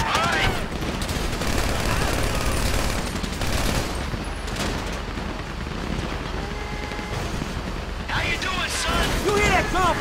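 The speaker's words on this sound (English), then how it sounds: "You hear that gunfire?" Dense, sustained gunfire from the GTA 5 Paleto heist mission rattles on continuously and loudly for the whole stretch, with occasional sharper bursts near the end and voices calling out over it.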